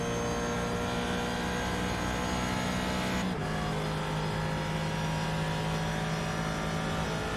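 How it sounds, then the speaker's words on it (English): A GT3 race car engine in the iRacing simulator drones at a high, steady pitch, with a brief shift midway as it holds its roar continuously. "it's just a case of listening to that engine roar"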